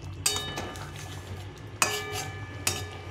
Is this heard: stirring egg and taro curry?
yes